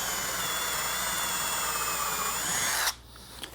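A power drill bores steadily into a 1.5-inch-thick wooden bench top with a loud, continuous whine that holds for nearly three seconds, then cuts off abruptly, leaving near silence.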